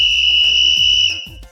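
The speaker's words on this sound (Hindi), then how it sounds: "ये है सीटी।" A shrill, steady whistle blast sounds close and loud for just over a second, then cuts off abruptly.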